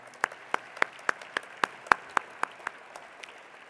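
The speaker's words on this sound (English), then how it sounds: "Please help me give them a round of applause." Steady, evenly spaced hand claps, about a dozen sharp single strikes in a regular rhythm, come from the audience at an awards ceremony. The claps are moderately loud and sound sparse rather than a full crowd roar.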